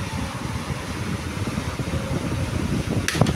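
A National brand electric desk fan runs on speed 1 with a steady whooshing hum, constant and close, ending with a brief clatter near the end.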